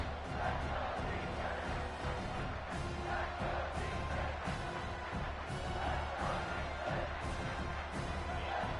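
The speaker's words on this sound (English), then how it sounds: "And here comes the noise. This crowd is trying to inspire this defense" Steady roar of a large college football stadium crowd, a continuous rumbling din with no single voice standing out, as the home crowd cheers on its defense.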